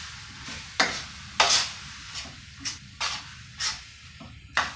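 Ground turkey sizzles in a pan over medium heat, with a steady frying hiss broken by about eight sharp scraping stir strokes spaced through the clip, close and fairly quiet, with no talking.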